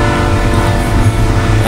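A passing train blasts its horn loud and close, a continuous dense roar with the rumble of rail cars underneath.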